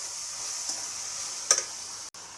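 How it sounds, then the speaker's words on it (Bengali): Vegetable chow mein noodles stir-fry in a pan with vinegar and green chillies, giving a faint steady sizzle and one brief clink of a utensil, heard close. "অল্প করে দিয়ে ভেজে নিচ্ছি"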